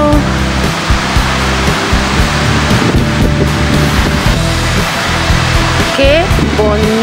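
Water from the RiverScape fountains at Five Rivers in Dayton, Ohio splashes and rushes in a steady, loud, continuous roar, with faint voices now and then.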